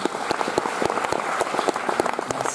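Audience applause for the forum teams at a French forum event, a lively crowd of individual claps with distinct hand-slaps audible, steady for a couple of seconds.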